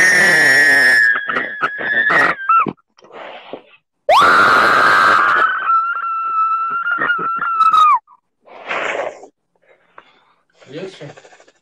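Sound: person screaming

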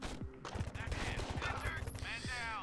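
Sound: SWAT officer gunfire in Door Kickers video game

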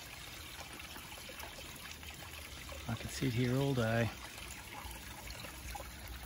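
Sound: creek water running over rocks

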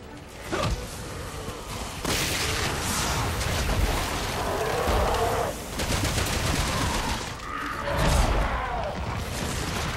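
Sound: gunfire in the video game Resident Evil 6

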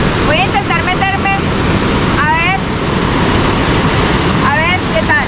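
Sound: rushing water from a waterfall

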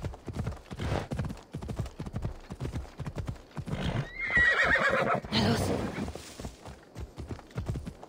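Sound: horse hooves and neighing in video game Assassin's Creed Odyssey

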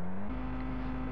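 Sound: car engine revving in video game VRChat

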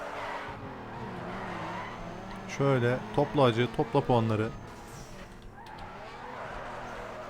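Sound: car drifting with tire squeal, from video game NFS Underground 2

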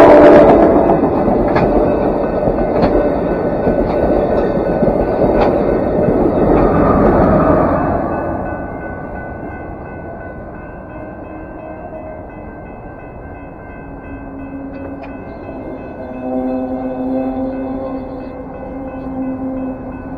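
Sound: Amtrak passenger train passing

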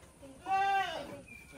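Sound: goat bleating

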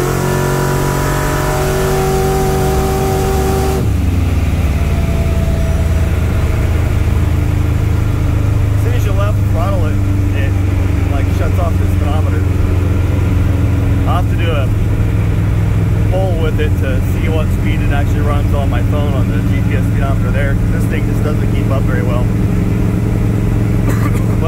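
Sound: 1965 Dodge D100 pro street truck accelerating hard

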